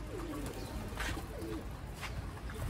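Pigeons kept for sale coo softly nearby, with a few low, rolling calls repeating at intervals over a steady background hiss.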